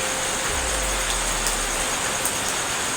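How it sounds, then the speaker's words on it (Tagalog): Heavy rain comes down as a dense, steady hiss of close drops on surfaces, with a low rumble underneath and no voices. "Lumalakas ang ulan, lumalakas."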